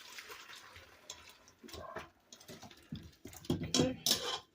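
Cooked neck bones and their heavy cooking liquid being moved into a bowl, with soft sloshing, clinks and scraping that build to louder splashes and knocks toward the end, fairly close.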